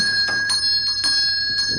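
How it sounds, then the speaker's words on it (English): A bell rings repeatedly inside a quiet room, several bright metallic strikes ringing out in an irregular rhythm over a steady high tone, fairly close and clear with no talking. "who's ringing the bell?"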